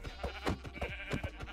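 Sheep in Minecraft bleat repeatedly in short, loud, close calls, several overlapping bleats over a steady low background hum.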